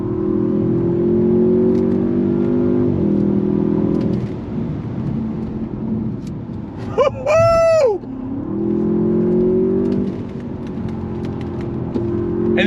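A 2023 Audi S8 performance sedan's engine pulls hard through the gears on a straight road, a loud, steady rising drone with a couple of shift dips and a brief high whine in the middle, heard from inside the cabin.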